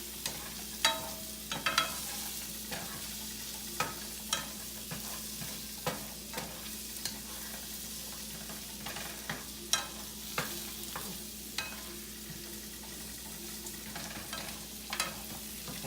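Vegetables with chili, ginger and garlic sizzle in a hot pan for a spicy vegan lo mein, a constant frying hiss punctuated by regular scraping stirs roughly every second, close and steady, with no voices.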